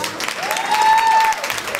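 An audience claps hands together in a dense burst of applause indoors. A sustained tonal whistle or voice rises over the clapping midway, and the short burst stays loud throughout.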